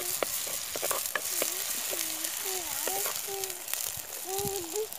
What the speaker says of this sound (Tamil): வெங்காயம் 1 பெரிய வெங்காயம் நல்லா சேர்த்துட்டு வதக்கி விட்டுருங்க.